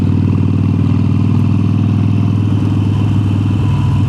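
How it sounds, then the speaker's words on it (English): A Harley-Davidson Sportster 883 motorcycle with an upgraded exhaust rumbles steadily and loudly throughout, a deep continuous engine drone with a slight rise in pitch near the end. "I'm hoping that you can actually hear the exhaust"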